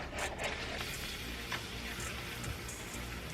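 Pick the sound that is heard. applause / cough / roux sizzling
roux sizzling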